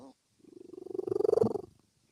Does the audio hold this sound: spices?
no